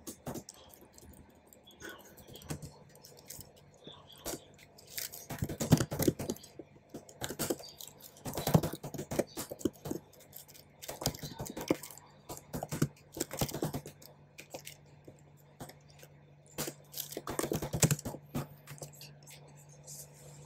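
Fingers type on a computer keyboard while a C program is written in Visual Studio Code on a Mac, irregular close clicks and key taps coming in bursts and pauses over a faint steady hum.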